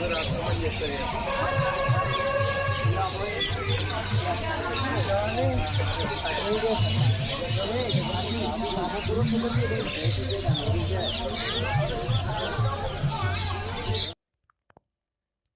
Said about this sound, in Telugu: మీకు వినబడతాయని చెప్పేసేసి నేను వాయిస్ అలా ఉంచానమాట పక్షులు అరుపులేనండి అవన్నీ